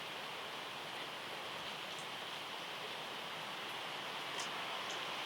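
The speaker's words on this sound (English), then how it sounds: "Enjoy the sound of the rain." Steady rain falls as an even, soft hiss that holds unbroken the whole time, faint and constant, with no voices.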